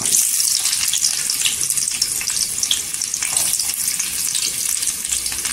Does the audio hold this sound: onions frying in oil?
yes